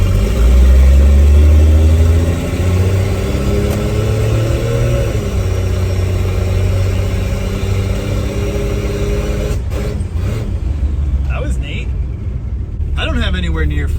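A 1963 Plymouth Valiant six with a supercharger feeding boost through a Carter BBD carburetor drones loudly and steadily near full throttle in the car, engine tone rising and falling slightly, with a voice speaking over it.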